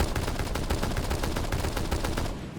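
Rapid, steady DMR rifle fire in Rainbow Six Siege X, a long unbroken string of sharp, loud shots close up that continues for nearly the whole stretch before easing off at the end.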